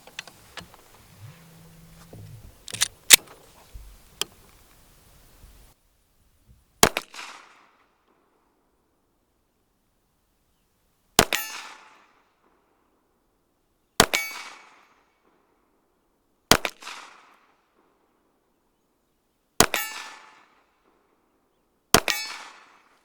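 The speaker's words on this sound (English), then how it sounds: "So we're actually going to do a 6-shot group with this pistol here." Glock 42 pistol firing 95-grain full metal jacket .380 ACP rounds, six sharp, loud shots spaced a few seconds apart, each followed by a short ringing decay, with faint handling noises before the first shot.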